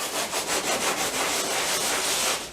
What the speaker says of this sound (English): or just the dry sandpaper, which he's doing now